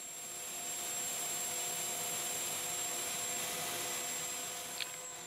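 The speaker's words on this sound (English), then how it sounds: "And I power sand it through 600 grit." Power sanding a wood-turned flying saucer on a lathe, worked through to 600 grit: a steady, even whirring rush that holds level throughout, with a faint tick near the end and no talking.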